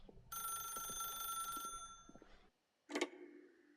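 A telephone rings in the video game The Stanley Parable: a sustained bright electronic ring that stops, then after a brief silence one short burst follows.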